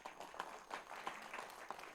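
Audience applause at a public regional election debate, marking the end of the first session: a brief, fairly faint patter of scattered claps with a few sharper individual hits, heard from a distance in a large room.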